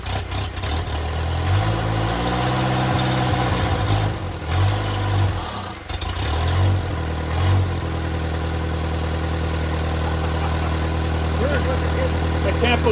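Antique Allis Chalmers B tractor, left sitting for over 15 years with a cracked engine block, running after revival: a loud, close, low engine rumble idling steadily with slight surges in speed and brief clanks, with people talking over it.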